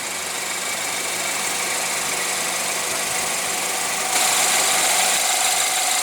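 A 2016 BMW X3's 2.0-liter twin-power turbo four-cylinder runs steadily at idle under the hood, heard up close as an even, loud hum that grows slightly louder and brighter toward the end.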